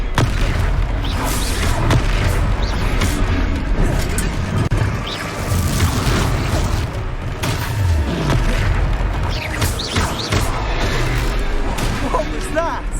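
Hogwarts Legacy gameplay in which a Confringo fire spell goes off, with heavy booming blasts and crackling bursts repeating over a dense battle din while voices speak in between.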